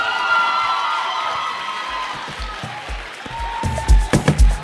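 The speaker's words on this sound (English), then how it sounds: "Please, with a resounding round of applause, I give to you Professor Remi" Competition semi-final audience welcoming a professor with applause and cheering, a broad wash of clapping that swells, with a few loud thumps and rising shouts toward the end.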